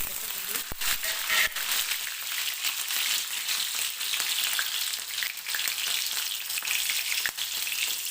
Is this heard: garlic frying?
yes